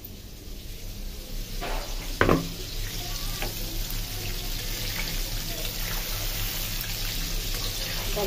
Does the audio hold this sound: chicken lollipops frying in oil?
yes